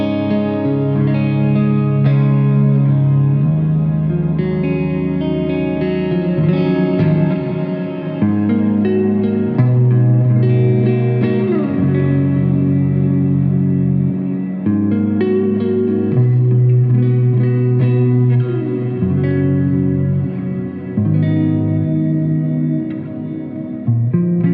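A sustained, ringing Solar E1.6 electric guitar on a clean tone with active pickups plays chords and melodic lines on its own, bathed in echo and reverb with a faint edge of grit.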